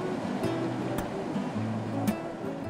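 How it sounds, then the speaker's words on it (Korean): Waves break on a winter sea at Sinam-ri on the Ulsan coast, a steady broadband wash of surf. Low rumbles and a few sharp splashes rise from it, with no voices. "저 하얗게 빛나는 파도를 좀 보세요"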